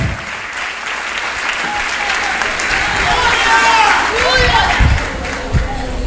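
A large audience breaks into loud, sustained applause at a church conference, steady dense clapping throughout, with cheering and voices rising through the crowd.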